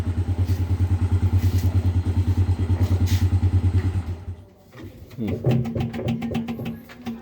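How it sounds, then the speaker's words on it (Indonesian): An Electrolux washing machine motor with a loose, worn bearing runs in a steady, loud rhythmic churn for about four seconds. It cuts out briefly, then returns as a sharper, uneven rattling clatter. "Mesin cucinya satu, lakernya sudah kocak, jadi bunyi geledak-geledak."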